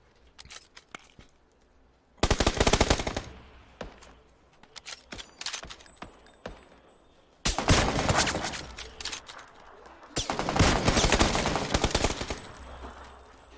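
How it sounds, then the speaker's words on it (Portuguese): Gunfire in the video game PUBG: bursts of automatic fire and scattered single shots, some loud and close, others sharper and more distant, with brief quiet gaps between volleys. "Que estão atirando em outras pessoas."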